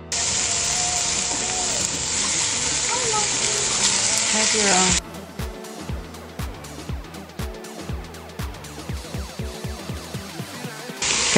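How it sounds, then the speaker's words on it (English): Meat frying in a soup pot, first a loud continuous sizzle and hiss, then broken by frequent clattering stirs and scrapes against the pot while the sizzling continues underneath. "we're going to let this sizzle and make for about 7 minutes"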